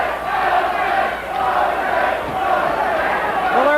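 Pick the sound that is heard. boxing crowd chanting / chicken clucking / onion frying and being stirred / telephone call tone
boxing crowd chanting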